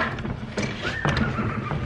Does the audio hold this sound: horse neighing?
yes